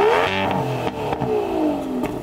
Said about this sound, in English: Can you rev up your car, Sam?